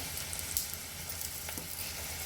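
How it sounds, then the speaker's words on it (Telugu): Dry red chillies sizzling in hot tempering oil for Telugu-style dal rasam (pappu charu), a close, steady frying hiss with small crackles throughout. "పోపులో కంపల్సరీ ఎండుమిర్చి వేసుకోవాలి"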